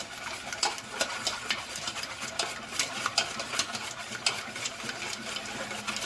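Cake batter for a chocolate and coffee cake being mixed by hand with a manual whisk, rapid rhythmic clicking and scraping strokes against the bowl, close and steady.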